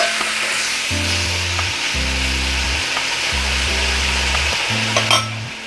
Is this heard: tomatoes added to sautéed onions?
yes